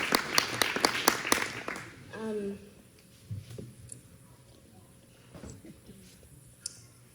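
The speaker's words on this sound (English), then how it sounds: "So big round of applause there." A meeting audience gives a short burst of applause, a couple of seconds of clapping that quickly fades into scattered voices and room noise.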